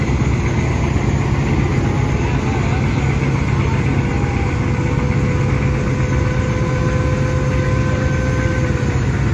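The engines of the passenger launches Karnafuli 12 and Tipu 14 roar at full power as the boats race side by side on the river. The drone is loud, continuous and heavy, with steady vibration throughout.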